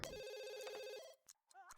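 A telephone rings in The Sims 2 video game, a bright repeating electronic trill that fills the first second loudly, then cuts off, followed by brief game sounds and a short voice.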